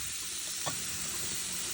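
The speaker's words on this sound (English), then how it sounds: "There's the meatballs cooking." Meatballs frying in a pan for a meat sauce, giving a steady, soft sizzle with a brief louder crackle partway through, heard alone at close range.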